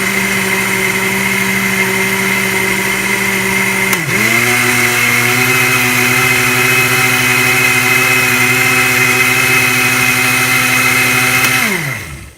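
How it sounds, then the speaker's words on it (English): A kitchen blender whirring through a weight-gain shake, a loud steady motor drone that dips in pitch as the load shifts, then winds down at the end. "put the lid on, and blend it up"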